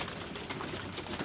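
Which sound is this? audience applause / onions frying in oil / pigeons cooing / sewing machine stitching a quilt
pigeons cooing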